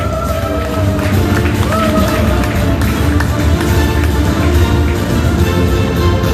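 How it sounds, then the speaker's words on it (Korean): A crowd applauding at a lively gathering, loud continuous clapping with shouts and crowd noise, and music or voices running through it. "남북 통일이 이루어진다고 생각 박수 한번 주세요"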